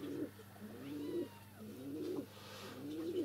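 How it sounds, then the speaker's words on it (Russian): Pigeons coo nearby in three soft, low, throaty phrases, each swelling and fading in turn, over a quiet room background with a few faint higher calls and no voices. "Это голуби воркуют у меня так."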